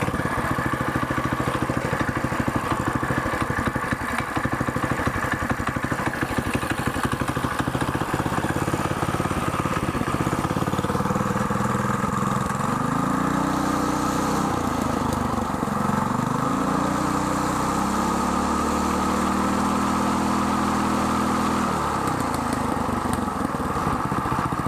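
Small minibike engine with choke on, sputtering and then running steadily with a rising and falling pitch, loud and close throughout, with no talk over it.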